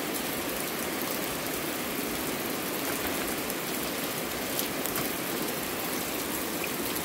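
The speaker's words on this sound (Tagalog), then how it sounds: "Ulan, basa-basa." Steady rain falling outside a home, a dense, even hiss of drops that holds constant throughout with no pauses and no voices over it.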